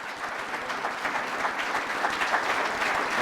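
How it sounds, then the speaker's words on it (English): Steady, dense applause from an audience welcoming a speaker at a university video board press conference, continuous clapping at a fairly loud, even level throughout. "please help me give Steve Craig a warm welcome"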